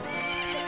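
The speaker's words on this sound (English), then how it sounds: "our horse just got hijacked by the Skull Kid" A horse neighs in The Legend of Zelda: Majora's Mask video game, one brief, loud whinny heard close up with no talking.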